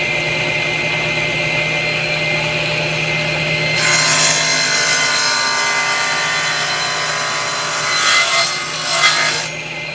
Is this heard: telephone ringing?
no